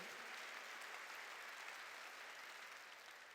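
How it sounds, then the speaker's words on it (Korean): A church congregation claps during a worship service, producing a continuous broadband patter of many hands that stays even, then eases slightly toward the end, heard fairly quietly and with no speech over it. "박수로 하나님께, 이게 믿음이다."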